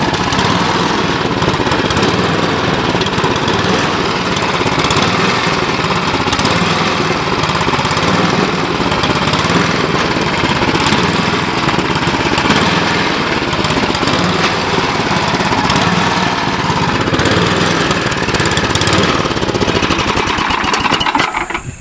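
A Cub Cadet 1030E snowblower's small engine runs loudly and continuously at close range with a rough, buzzing clatter for about twenty seconds before cutting off abruptly at the end.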